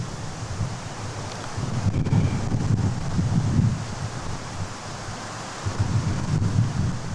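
Wind blows through trees in a steady, rushing gust that swells and eases over several seconds, with microphone buffeting and no voices, on a cloudy, hot day.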